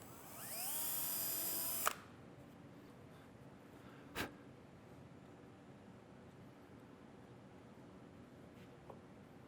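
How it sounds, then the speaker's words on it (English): A small drill bores a little hole in a wooden gauge block, giving a brief high whine that lasts about two seconds and cuts off sharply. Near-silence follows, broken by a single knock and a faint click. "Okay, so just drill a little hole for it."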